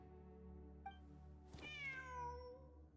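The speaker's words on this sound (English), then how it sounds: "Wait, there it is! The cat!" Cat meowing in a video game, a faint tone and a short chirp, then a clear drawn-out meow with a falling pitch, up close over a low background hum, with no talking.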